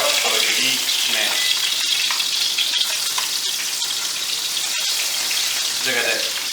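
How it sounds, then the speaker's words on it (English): Fresh-caught catfish fries in butter and vegetable oil, a loud, continuous crackling sizzle heard up close with occasional light spatters throughout. "We're frying this, I hate to say it, but we're frying it in vegetable oil tonight"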